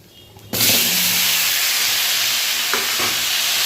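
Food drops into hot oil with a sudden loud sizzle that keeps hissing steadily, with a couple of faint stirring knocks.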